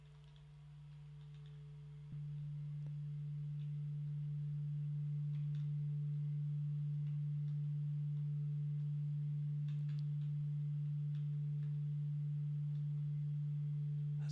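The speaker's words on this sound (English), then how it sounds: "intense sine wave tone." A steady, intense sine wave tone hums inside the Hunting Bears room of the Radiohead Kid A Mnesia exhibition game, holding one pitch for about fourteen seconds and swelling slightly louder after a faint click near the start.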